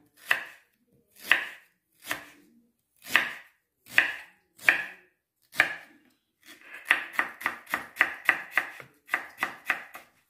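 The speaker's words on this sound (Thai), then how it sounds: "ขิงนี่ยายก็จะหั่นฝอยๆเลยค่ะ" A knife finely chops ginger on a cutting board, first in about seven separate crisp knocks, then speeding into a quick run of rapid taps, close and clear with no talking.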